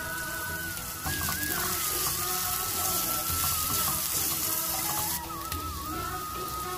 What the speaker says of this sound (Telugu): అన్ని ఫ్రై అయినాయండి